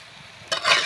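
Chopped cabbage is stirred into a cooking pot with boiled lentils and a little water, making a brief, close scraping and rustling burst after a moment of quiet.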